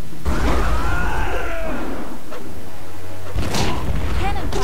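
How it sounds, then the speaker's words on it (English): Booming cannon blasts from the Jade Empire video game, with heavy low thuds and bursts under game effects and music, loud and close, and a couple of sharper impacts near the end. "Cannon fire, look out."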